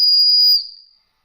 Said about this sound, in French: deux clips ceinture qui, le cas échéant, peuvent se transformer en sifflets d'appoint.